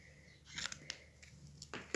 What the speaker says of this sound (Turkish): Ve bunları kesiyorum